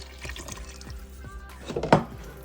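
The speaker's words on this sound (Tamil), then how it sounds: "அரை கப்பு பால் சேர்த்துக்கலாம்." Milk pours into waffle batter in a bowl, a short liquid splash and trickle that swells near the end against faint kitchen background.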